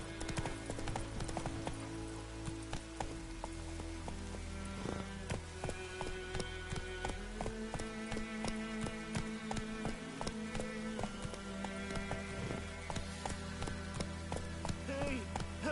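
Roach, a horse in The Witcher 3, gallops with a steady run of hoof clip-clops under game music, close and continuous, while voices speak at times.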